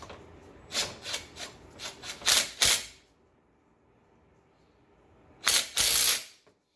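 A ratchet tightens bolts on the idler bracket of a 1998 JDM Subaru Legacy 2.0L wagon, giving several short clicking bursts, a quiet pause, then two more loud close ratchet runs.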